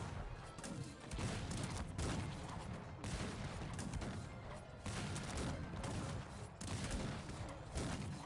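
Rapid machine-gun fire from a fortified house in the strategy game Cossacks 3, crackling in dense bursts with booming impacts, loud and continuous over a steady battle din.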